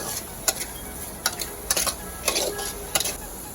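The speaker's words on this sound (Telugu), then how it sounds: "పెరుగు వేసాక బాగా మిక్స్ చేసుకోవాలి. ఆయిల్ పైకి తేలే వరకు బాగా కలుపుతూ మిక్స్ చేసుకుంటూ ఉండాలి." A spoon stirs fish curry with yogurt in hot oil, scraping the pan in a series of irregular, sharp clicks over a faint sizzle, with no voices.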